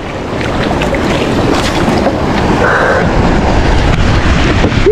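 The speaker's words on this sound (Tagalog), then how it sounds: "laki ng alon" Loud, continuous rush of big ocean waves and wind buffeting the microphone while riding a boat through the waves.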